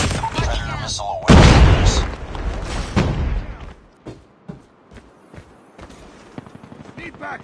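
In Call of Duty Mobile, gunfire crackles and a predator missile strike lands with a loud boom and rumble, followed by scattered shots and game voice callouts.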